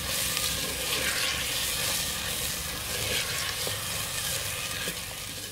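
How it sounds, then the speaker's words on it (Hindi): Tomatoes and green chillies fry in masala in a pan for baingan bharta. A dense, steady sizzle carries on unbroken at close range, with soft stirring underneath and no voices. "मसाला हमारा फ्राई हो रहा है"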